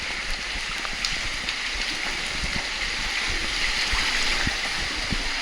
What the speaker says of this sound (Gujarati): વરસાદ હમણાં જ આવ્યો ને પાણી પગથિયા ઉપર આવવા માંડ્યું